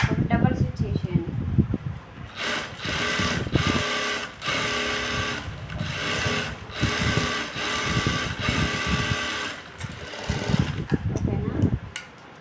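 A sewing machine double-stitches a blouse in fast mechanical bursts of clattering needle strokes, stopping and starting several times, close and loud, with a voice speaking in the pauses.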